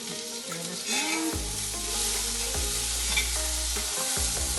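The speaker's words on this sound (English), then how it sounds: "After about a minute, let's stir this around." A spoon scrapes and knocks through vegetable stew in a pot, Kerala style with pumpkin and potatoes, several distinct clunks and scrapes over a light steady sizzle, close and fairly quiet.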